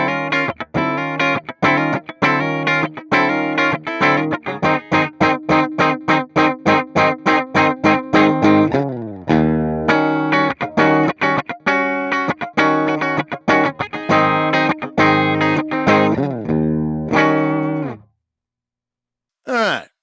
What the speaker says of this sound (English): 1965 Fender Twin Reverb with the corresponding 1965 Fender Twin Reverb 2x12 cabinet